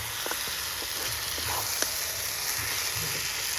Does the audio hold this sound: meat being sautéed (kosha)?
yes